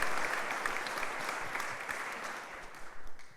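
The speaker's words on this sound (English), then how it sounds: "Let's give them a round of applause" A luncheon audience applauds the Bubba's 33 restaurant crew, a soft, sustained patter of many hands clapping at a distance that gradually thins out toward the end.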